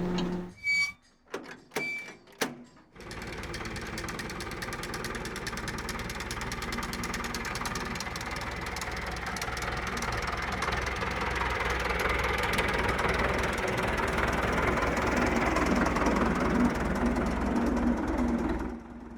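A tractor's engine runs steadily at a knocking idle after a few short clunks and knocks at the start, staying close and loud, its rough mechanical drone continuing to the end.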